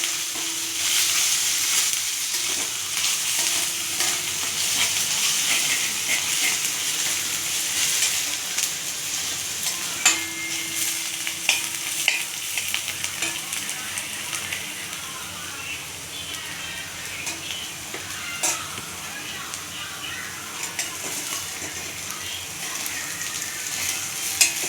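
Ginger and garlic stir-frying in a pan for a sponge gourd and moong dal gravy, making a steady, fairly close sizzle with scraping stirs throughout and no talk over it.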